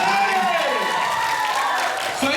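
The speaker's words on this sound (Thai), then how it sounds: "ขอเสียงปรบมือให้เขาด้วยนะครับ" An audience at the opening of an event applauds in a steady, dense wash of clapping throughout, with a voice speaking over it.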